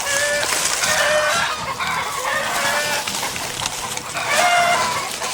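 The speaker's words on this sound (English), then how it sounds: "Even the chickens are excited." Chickens cluck and squawk continuously nearby, with overlapping calls from several birds and occasional higher sharp notes.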